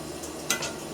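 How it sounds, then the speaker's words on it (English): A spoon stirs plant-based spaghetti sauce in a pan, a brief close scraping swish with a soft sizzle underneath, lasting about a second. "Now we're going to stir this around."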